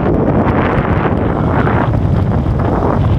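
Strong wind blasts across a microphone outdoors at a runway where a radio-controlled model Corsair plane is flown, making a loud, constant roaring rumble that never lets up and has no speech over it.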